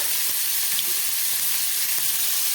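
Eggplant fries in oil with a dense, even hiss of sizzling that holds steady and close for the whole short stretch, without voices or stirring.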